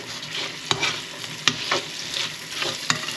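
Prawns fry gently in a pan with salt and pepper for garlic prawns, giving a steady close sizzle broken by a few sharp utensil scrapes as they are stirred, with no talking.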